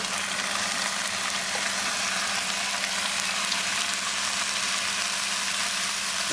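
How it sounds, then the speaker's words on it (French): Beef frying in a pan for Sichuan braised beef, a loud, steady, continuous sizzle with a low hum running underneath the whole time. "Après 2-3 minutes, on ajoute tout le bœuf."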